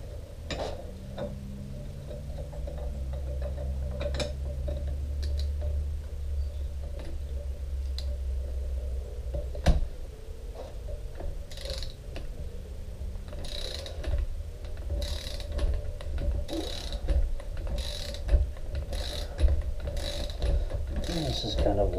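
Torque wrench tightening a part on a WP AER 48 fork during a rebuild, with rattling ratchet clicks and mechanical ticking that come in quick bursts and grow denser toward the end over a steady low background.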